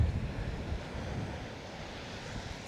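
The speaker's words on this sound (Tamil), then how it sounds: "நல்ல அலை சூப்பராக வருது." Ocean waves wash onto an Australian beach beside sand dunes and dry scrub, a steady broadband surf roar with wind buffeting the microphone, continuous and fairly loud with no talking.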